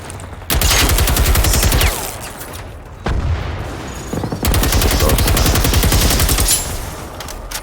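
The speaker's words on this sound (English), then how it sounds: "Oh, it's shooting me." Enemy machine gun in Generation Zero rattles in two long, loud rapid bursts of dense gunfire, one near the start and one later, with a brief pause between and no talk over it.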